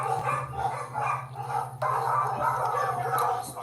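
Several dogs bark loudly and repeatedly nearby, overlapping in a steady, agitated chorus.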